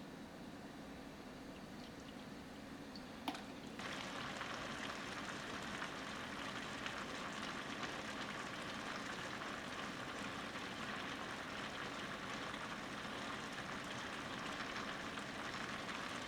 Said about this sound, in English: You can probably hear it bubbling away.